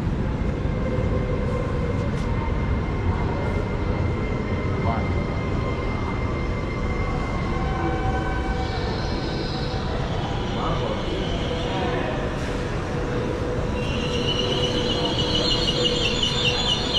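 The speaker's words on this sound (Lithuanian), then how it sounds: "Neapolio metro." A Naples metro train runs with a steady, loud low rumble and broadband rolling noise throughout, faint high whines and squeals rising toward the end.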